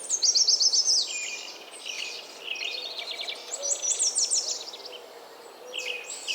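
A birdsong chorus of goldfinch, least flycatcher, common grackle and Bullock's oriole fills the air with overlapping high chirps, trills and rapid repeated notes, some close and loud at the start, others fainter throughout.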